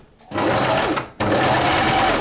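A household sewing machine runs in two loud, steady bursts of rapid stitching, broken by a short pause. It is close and continuous, with no talk over it.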